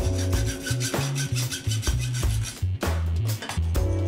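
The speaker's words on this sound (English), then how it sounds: "I could just cut its length using a hacksaw" A hacksaw cuts a brass tube to length for a lamp build, giving a close, steady rasping rhythm of repeated push-and-pull strokes with brief pauses, loud and without talk.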